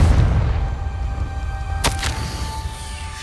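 A Confringo fire spell cast in Hogwarts Legacy bursts once near the middle as a short sharp blast, with a lighter crack just after, over a steady low game rumble and music.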